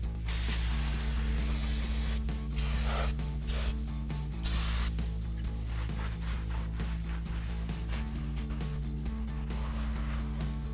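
Brake cleaner sprayed onto a PowerStop Z36 slotted and drilled brake rotor, inside and out, on a Jeep Gladiator JT; close, loud hissing bursts, some short and some long, over a steady background hum.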